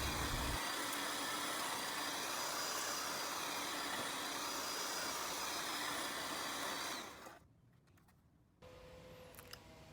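A garden tiller cultivator working hard, dry, dusty ground gives a steady loud engine drone for about seven seconds, then drops away sharply to a quieter background with a brief burst of noise near the end.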